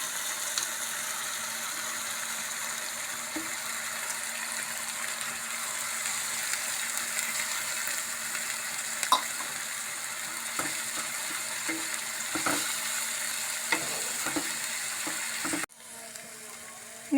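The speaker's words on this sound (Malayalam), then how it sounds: "വേപ്പിൻ്റെ ഇല ഇട്ട് പേസ്റ്റ് ആക്കിയ ഉള്ളി ചേർക്കുകയാണ്." Onion paste with neem leaves frying in a pan, a steady sizzling hiss with occasional scrapes and clicks of stirring, ending in an abrupt change near the close.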